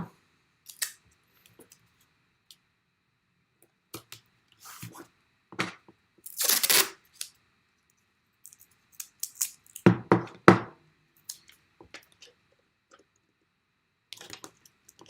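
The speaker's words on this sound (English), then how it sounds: "I'm taping this in." Watercolour paper being taped down to a board: a handful of sharp crackling tape rips and short tearing bursts, scattered between quiet gaps, with one longer strip pulled off midway and a cluster of crackles after it.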